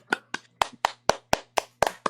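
A group claps hands for someone named Brandon in a podcast studio, about nine sharp, fairly evenly spaced claps over two seconds, close and crisp with a low steady hum beneath.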